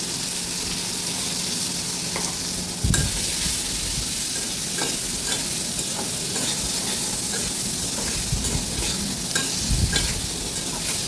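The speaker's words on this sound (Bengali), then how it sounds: "এই যে কাঁচামরিচ আর আলু দিয়ে আমি এখন একটু নাড়াচাড়া করে নেব।" Potatoes and green chillies are stirred and fried in a pan, giving a loud, hissing sizzle close by along with repeated scraping and clinking strokes of the spatula.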